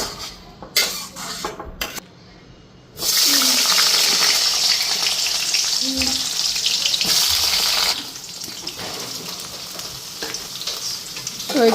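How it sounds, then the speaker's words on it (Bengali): Chilies frying lightly in a pan alongside eggplant and onion, giving a steady close sizzle with occasional utensil scrapes and clinks, briefly quieter at the start before the frying noise swells. "আর মরিচটা হালকা ফ্রাই করে নিতেছি।"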